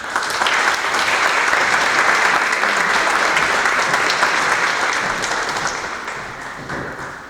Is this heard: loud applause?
yes